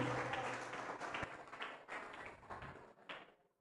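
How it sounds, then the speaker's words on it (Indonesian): Audience applause for the third student council (OSIS) candidate at a school debate at SMKN 1 Cermee, a fairly faint, scattered patter of clapping that thins out toward the end. "silakan diberi tepuk tangan yang meriah kepada calon ketiga"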